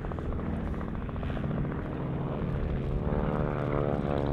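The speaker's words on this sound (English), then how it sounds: "Oh, we got a helicopter there." A helicopter flies overhead under a clear blue sky, its loud, steady rotor thump and engine drone filling the whole stretch without a break.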